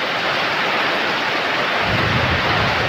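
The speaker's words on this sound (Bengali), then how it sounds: "অনেক বৃষ্টি হচ্ছে" Heavy rain pours down in a dense, unbroken roar that stays loud and steady throughout, with a slightly deeper rumble toward the end and no voices.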